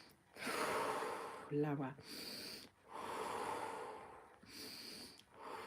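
Slow, deep breaths during a qigong breathing exercise: long airy inhales and exhales alternating in a steady rhythm, close and clear, with a brief spoken word in between.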